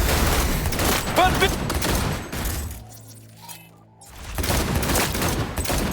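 Dense bursts of gunfire in a Cyberpunk 2077 shootout, loud and sustained, dropping out briefly in the middle before the shooting resumes.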